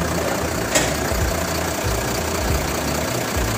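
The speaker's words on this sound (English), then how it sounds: "Tsaka maganda yung tunog ng makina nito" A Mitsubishi FUSO 10-wheeler wing van truck idles at an auction yard, its diesel engine giving a steady low rumbling churn with a small clunk early on.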